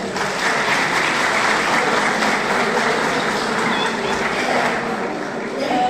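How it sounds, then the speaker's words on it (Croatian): Sustained applause from a large crowd at a 30th anniversary celebration of an infantry brigade in Han Pijesak, dense, even clapping filling the whole stretch at full strength with no break. "Još jedan aplauz za njih."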